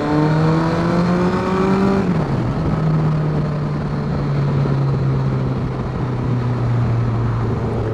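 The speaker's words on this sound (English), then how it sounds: "it really doesn't matter too much what gear you're in, the bike will just pull." Honda Blackbird CBR1100XX motorcycle engine pulling hard under load while riding, a loud continuous drone that rises in pitch, dips briefly around a gear change, then holds steady, with wind noise throughout and no talking.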